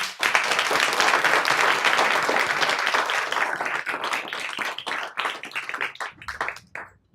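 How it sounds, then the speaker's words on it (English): Sustained audience applause for a panel discussion, dense clapping from many hands, tapering into a few scattered claps near the end. "So big round of applause for them."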